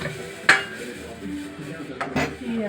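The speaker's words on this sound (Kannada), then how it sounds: "ಸ್ಮ್ಯಾಶ್ ಮಾಡ್ಕೊಂಡಿರೋ ಸೊಪ್ಪು ಹಾಗೂ ತಿಳಿ ಎರಡನ್ನು ಮಿಕ್ಸ್ ಮಾಡ್ಕೊಳ್ಳೋಣ" A spoon clinks against a cooking pot while mashed greens and thin liquid are stirred together, giving one sharp clink and a pair of lighter knocks, with quiet scraping and faint voices in between.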